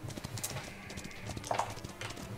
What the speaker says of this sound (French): Grand galop, là, grand galop, on y va là.